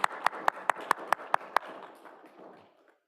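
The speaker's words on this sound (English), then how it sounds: "I think we should give Cecil a round of applause" A small audience at a regular town council meeting claps for a departing member, about eight sharp, evenly spaced claps ringing close and distinct, then a brief softer patter that fades out.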